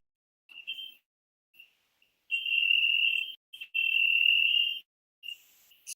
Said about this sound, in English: Synthetic cricket sounds echoing through the vacuum